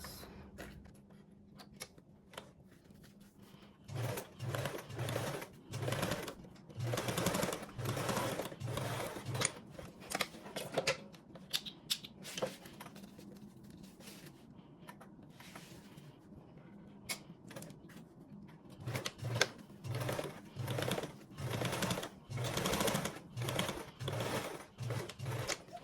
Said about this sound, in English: I'm going to go ahead and top stitch my panels.